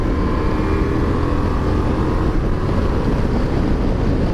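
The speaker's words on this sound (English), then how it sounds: "I'll give it a little bit of throttle." A Ducati Multistrada V4 adventure motorcycle rides at speed in touring mode, a broad engine roar mixed with heavy wind rush, steady and loud with no talk.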